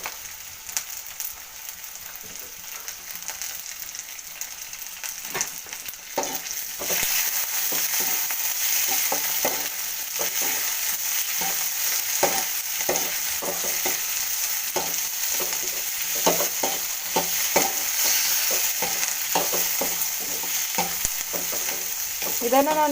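Tomato frying in a pan for a traditional fish curry, with a steady bright sizzle under repeated scraping stirs of a spoon against the pan, loud and close, with no talking.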